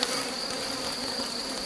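Honeybees swarm densely over an opened brood frame with young larvae from a rescued drone-laying hive, their buzzing close, loud and unbroken throughout.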